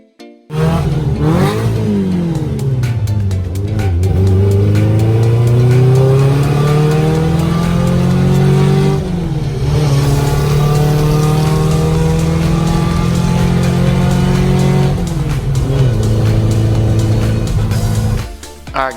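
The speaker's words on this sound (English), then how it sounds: "it is a 1974 Super Beetle" A 1974 Volkswagen Super Beetle's air-cooled engine revs loudly and continuously as the car drives off and accelerates through several gears. The pitch climbs and drops with each shift, and no one talks over it.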